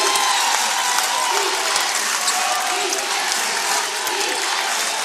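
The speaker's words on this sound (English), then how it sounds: "Knights Hall crowd to its feet." A packed basketball crowd at Knights Hall rises for the last shot of the half in the 2017 Bellarmine vs Findlay Midwest regional final. A dense, continuous roar of cheering and applause stays loud throughout.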